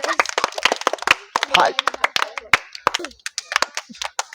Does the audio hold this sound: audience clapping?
yes